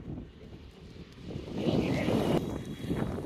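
Steady, broad rumble of passing road traffic around a cyclist riding the Kanakapura route from Bengaluru toward Mysuru, with wind buffeting the microphone and a swell of louder vehicle noise midway through.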